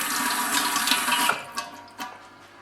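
Running tap water splashes over hands as paint is washed off, a loud steady gush at close range that cuts off and leaves a few drips and clinks.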